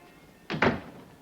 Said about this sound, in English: Can we close the door, please?